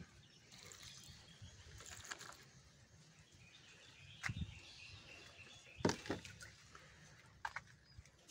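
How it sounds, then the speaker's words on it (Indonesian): Water is poured from a container onto the soil of freshly planted plant cuttings, making a soft, quiet trickle with a few brief louder splashes, while birds chirp faintly in the background. "Kita siram air seperti ini akan rapat."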